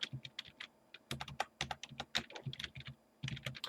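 Computer keyboard keys tapped in quick clustered bursts, including a Shift plus Enter command entry in the Maxima math program; the crisp clicks are close and fairly loud, with short pauses between runs.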